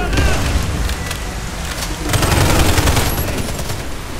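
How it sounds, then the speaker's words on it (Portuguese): A grenade blast in the shooter game Warface, a loud broadband burst with crackling debris amid ongoing gunfire, followed by a second heavy surge of rumbling explosion noise. "Granada."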